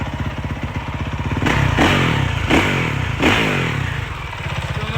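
A 2020 Honda CRF450R dirt bike engine idles steadily with a rapid, chugging pulse, briefly revving a few times in the middle before settling back to idle.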